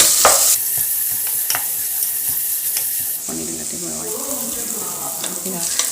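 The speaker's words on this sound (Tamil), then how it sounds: "இப்போ வெங்காயம் ஓரளவு கோல்டன் கலர் வர வரைக்கும் வதங்க." Long-sliced onions fry briskly in hot oil and ghee for chicken biryani, with a steady close sizzle and occasional stirring scrapes and clinks; no talk is heard.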